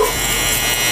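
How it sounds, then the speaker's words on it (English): A Stylecraft Instinct electric hair trimmer runs with a steady, close buzzing hum that holds level for the whole second, used for lining up a beard during a haircut. "I'm gonna switch over to my Stylecraft Instinct trimmer"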